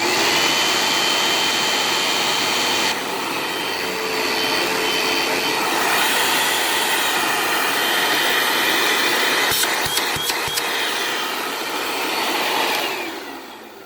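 A secondhand upright vacuum cleaner running with its brush roll spinning, a loud steady motor whine and airflow roar throughout, with a few sharp clicks and rattles near the end, close and alone.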